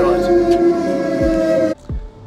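Loud sirens wail in a steady, sustained harmonic tone heard from the top of a wall just out of tunnels, then cut off abruptly partway through, leaving a low rumble.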